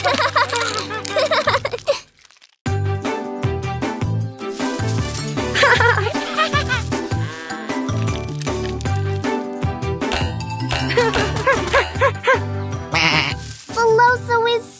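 Sheep bleating repeatedly over lively background music, with a brief pause near the start; the bleats are clear and close.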